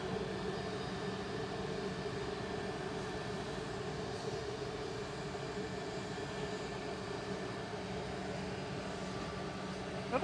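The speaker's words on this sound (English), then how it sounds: "And the A380 is moving." An Airbus A380 moving at Manchester Airport gives off a faint, distant, steady jet engine drone with a low rumble that holds evenly throughout.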